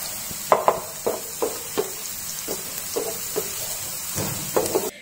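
Finely chopped onions fry in hot oil for a Mangalore-style fish curry, with a soft steady sizzle and repeated stirring scrapes at an even rhythm, close and moderately loud.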